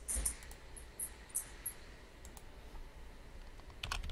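Someone types on a computer keyboard during a live stream, a faint scatter of light key clicks over low background hum, with a slightly louder cluster at the end.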